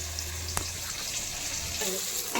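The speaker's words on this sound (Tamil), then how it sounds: "வெங்காயம் வதங்குது" Onions sautéing in a pan for a Tamil-style fish curry, a steady soft sizzle and fry with a few clinks and stirring scrapes, close and continuous, no voices.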